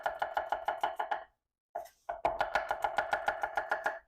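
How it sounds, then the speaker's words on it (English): A knife chops vegetables for salsa in fast, steady strokes on a board. It pauses briefly, then the close, crisp rhythm picks up again. "chop them up"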